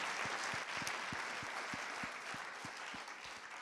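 An audience claps at a closing plenary session, a steady wash of applause from a large room with a few louder rhythmic claps standing out.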